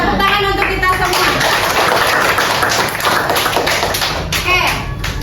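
A classroom bursts into applause, a dense patter of clapping hands mixed with children's voices and some thumps, loud and close throughout.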